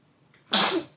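A single sharp sneeze bursts out close and loud after a brief quiet moment, then trails off quickly.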